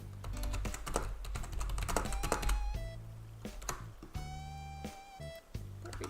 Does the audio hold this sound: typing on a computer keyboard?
yes